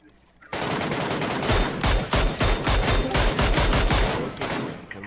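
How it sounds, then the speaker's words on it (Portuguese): Dense bursts of rapid gunfire in the video game PUBG Lite erupt suddenly and continue loudly, overlapping shots rattling in quick succession with no talking. "Olha, eles estão atirando"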